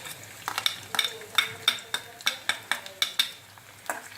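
Garlic and chilies frying in a pan while cooking a Bengali prawn curry, with sharp repeated spatula taps and scrapes against the pan in a quick irregular rhythm over a light sizzle, close and without speech.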